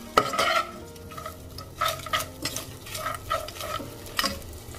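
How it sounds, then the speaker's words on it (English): Onions fry in oil in a pan for mutton biryani, with a utensil repeatedly scraping and stirring against the pan in uneven strokes over a soft sizzle; close and clear, no talking. "Let it cook until it golden fry."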